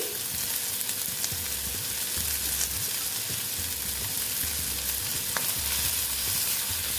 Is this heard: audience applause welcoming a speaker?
no